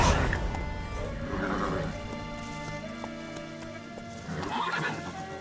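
Horse neighs and whinnies with clip-clop galloping hooves in The Witcher 3 video game, a loud whinny at the start and another near the end over steady hoofbeats and game music.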